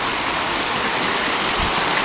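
A waterfall pours into a swimming pool with a steady, loud broadband rush of flowing water, close by and continuous with no talk.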